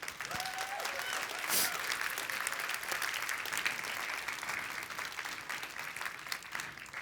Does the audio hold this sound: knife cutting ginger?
no